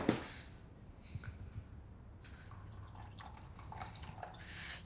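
A little water poured into a well of flour holding salt and four eggs for homemade quiche pastry, heard as a faint, brief trickle and a few soft drips close by in a quiet room.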